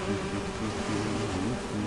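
In the game Identity V, the Entomologist's swarm of bees gives off a steady, dense buzzing drone that holds close and continuous with no break.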